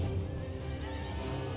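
Cavalry horses neigh and whinny in a large battle of the strategy game Empire: Total War, with a dense, continuous din of mounts and hooves layered beneath at steady loudness.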